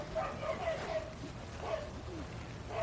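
Dogs bark and yip repeatedly in short, excited bursts at a moderate distance, mixed with people talking.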